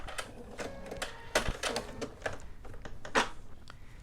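Domestic sewing machine running a button-attaching stitch cycle on a baby romper, a fast mechanical needle chatter that repeats in short bursts and pauses, close and moderately loud with no talking.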